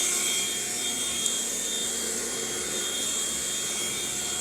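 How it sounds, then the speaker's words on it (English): A Philips Speed Pro vacuum cleaner runs on a sofa with a steady, loud whine and airy rush of suction, close by and unbroken throughout. "the suction is so far going really great. It's doing a great job of just sucking in the air"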